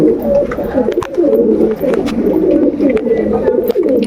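Pet pigeons cooing close by, a dense continuous chorus of throaty rolling coos from several birds, with no talk over them.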